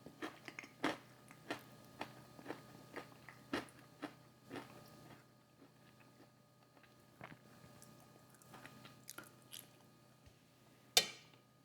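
Someone eats Popeyes garlic parmesan fried chicken close to the mic, with repeated soft bites and wet chewing spread across the clip and one sharper crunch near the end, no talking.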